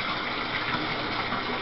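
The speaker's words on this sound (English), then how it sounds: "Getting the cold water ready." Cold water gushes steadily from a tap into a bathtub being filled for an ice bath, a continuous close rushing splash with no voices.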